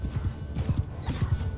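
Horses gallop with a steady clip-clop of hooves and a whinny rising over the din of a Mount & Blade 2: Bannerlord cavalry battle, close and fairly loud throughout.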